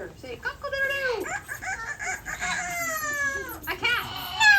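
A rescued parrot at a bird show imitates a rooster, giving a string of close, loud, warbling crow-like calls that rise and fall, one after another, with a few brief gaps between them.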